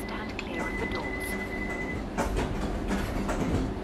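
A London Underground train in a train simulator video game rumbles and hums as it pulls away from the platform, with a steady electric whine and wheel noise building, under some voice sound.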